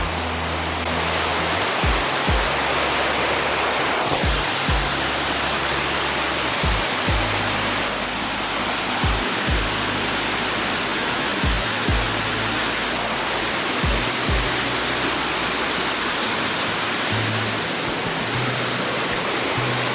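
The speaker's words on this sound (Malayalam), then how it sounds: "ഇതാണ് വെള്ളച്ചാട്ടം." A waterfall at Mannathipara in Chelakkara, in the Western Ghats, roars in a dense, unbroken rush of falling water that stays loud and steady throughout, with faint low thumps underneath and no talk.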